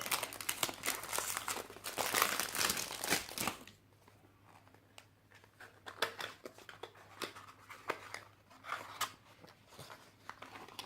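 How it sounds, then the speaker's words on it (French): A small 30 ml perfume bottle is unboxed, with loud crinkling and rustling of the packaging for the first few seconds, then quieter, intermittent bursts of crackling handling. "Je vais l'ouvrir pour vous montrer le flacon."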